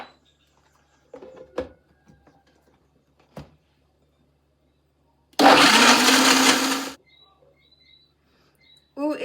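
A blender whirs loudly for about a second and a half, blending mango, carrot, ginger and water into a drink, preceded by a few small kitchen clatters and thumps.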